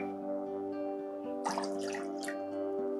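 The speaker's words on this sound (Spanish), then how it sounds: "vamos a poner 2 tacitas de agua" Water is poured into a cup for a homemade starch stiffener for macramé leaves, a short splashing trickle over a steady background hum.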